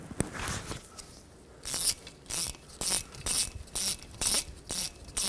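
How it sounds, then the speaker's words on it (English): A ratchet driving an Allen socket breaks a bolt free on the front hub of a 2007-14 Chevy Silverado during ABS sensor replacement: a few early clicks, then about seven loud, evenly spaced bursts of rapid ratcheting, close up. "I'm going to use an Allen socket to go right into the bolt"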